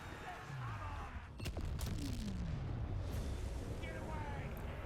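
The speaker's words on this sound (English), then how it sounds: "The explosion was a little bit larger than I thought, and it did end up killing quite a few of our own clan rats" A warp lightning explosion in Total War: Warhammer 2 detonates among Skaven clan rats, with a deep booming burst and rumbling aftermath over battle noise, and a voice talking faintly beneath it.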